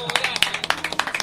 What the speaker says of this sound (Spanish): Che, un aplauso para Gluquitas acá y el Pola.